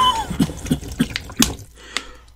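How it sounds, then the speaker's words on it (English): Water sloshing and dripping in a bucket, a series of four or five distinct close splashy plops roughly evenly spaced, then a final drip, otherwise quiet. "We just got a bucket of water here."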